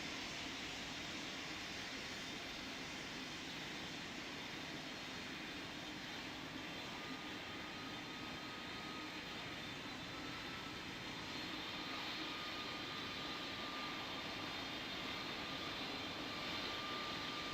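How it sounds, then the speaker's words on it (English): An airliner in the flight game Pilot Training Flight Simulator runs its jet engines on takeoff, a steady, even engine roar with a faint high whine, unbroken throughout, with no talking. "Spirit Wings 4413, you're cleared for takeoff on runway 13"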